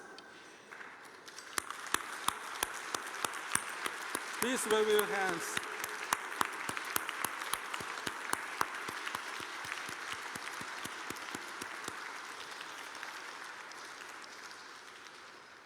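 Gala audience at a Lunar New Year celebration gives sustained applause, a dense, steady wash of clapping lasting many seconds with a brief spoken line over it.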